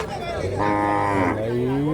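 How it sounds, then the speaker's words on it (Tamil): Cows lowing at a busy cattle market, one long, loud moo rising over a steady crowd and livestock din close by. "பாருங்க இங்கே நிற்கிது மொத்தமாக எல்லாம் பசு மாடுங்க தாங்க நிற்கிது"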